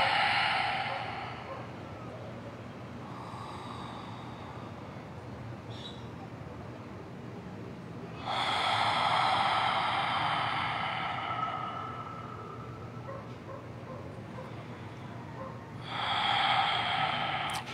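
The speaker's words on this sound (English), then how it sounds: "Listening to the gentle rhythm of your breathing." Slow, relaxed breaths during a restorative yoga session: long airy inhales and exhales in a calm rhythm, a few louder swells standing out over a quiet room background.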